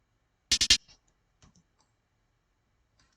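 Snare drum sample for a trap beat, three sharp dry hits in quick succession followed by a few faint scattered taps and near silence.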